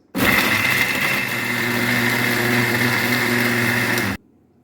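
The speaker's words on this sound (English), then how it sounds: "I'll add in onions and I'll blend this, not smoothly but roughly." A blender coarsely chops fresh peppers and onions for efo riro, a loud steady motor whir with churning that runs unbroken for about four seconds and then cuts off abruptly.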